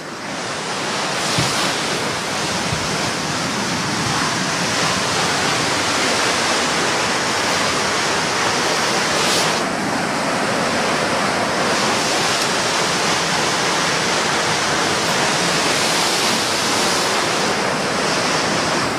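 Rushing floodwater roars through a swollen river during heavy rain in Mersin, a loud, dense, continuous wash of turbulent water with some wind buffeting, no voices over it.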